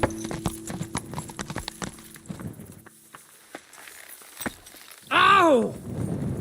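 Horse hooves clip-clop in Kingdom Come: Deliverance, a run of sharp, closely spaced hoofbeats that slows and thins out, followed by a short, loud horse whinny.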